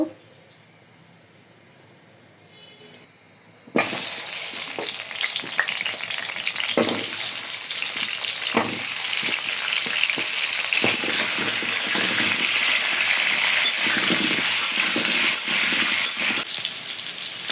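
New potatoes frying in oil in a pan, the loud continuous sizzle bursting in after a few quiet seconds and staying steady, with occasional stirring scrapes.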